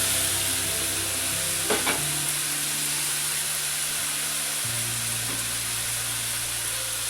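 Onions frying with salt in a pan for a baby potato fry, a steady bright sizzle with a continuous hiss and a couple of brief stirring clinks, no voices.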